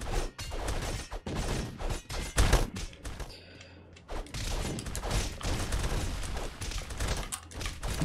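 Explosions in the Castle Crashers video game burst in rapid clusters of sharp cracks and thuds amid busy battle clatter, dropping briefly to a lull before the chaotic blasts resume.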